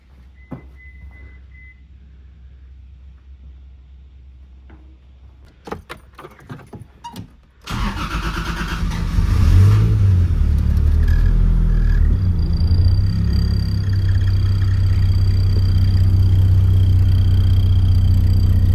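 A Nissan S14 with a swapped 2JZ engine cranks and fires up after weeks of sitting; scattered clicks and clanks first, then the engine catches and settles into a loud, steady idle with a rising rev near the start.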